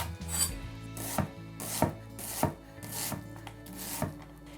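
An onion is chopped on a cutting board by knife in an even rhythm of about seven crisp thumps, close and clear, with no talking.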